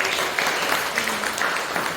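Students in a classroom clap together for a presenter, a brisk, even patter of many hands lasting a couple of seconds with no voices over it.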